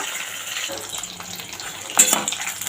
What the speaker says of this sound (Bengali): মাছগুলো খুব সুন্দর করে দেখো ভাজা হচ্ছে